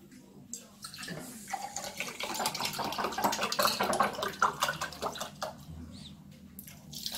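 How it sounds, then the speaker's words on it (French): Organic oat milk poured into a shaker for a carb-rich mass gainer, a close, steady liquid pour lasting several seconds with splashy, bubbling texture that swells and then trails off. "Donc, je vais mettre mon lait d'avoine bio."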